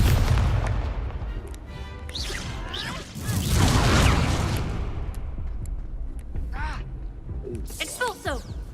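An Expulso explosion spell goes off in a Hogwarts Legacy duel as a loud whooshing boom with a crashing burst. Dense combat noise and shouted voices surround it, and a rumbling roar lingers afterward.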